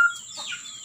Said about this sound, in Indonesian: lagi kasih ayam makan dulu